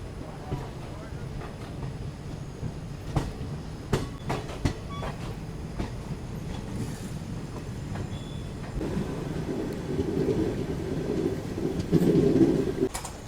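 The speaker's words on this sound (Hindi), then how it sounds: "फाइनली हमारी ट्रेन निकल चुकी है रुद्रपुर सिटी रेलवे स्टेशन से" The Ranikhet Express pulls out of Rudrapur City railway station at night, heard from inside a Second AC coach as a low rumbling roll with scattered clacks and knocks, the rumble building toward the end.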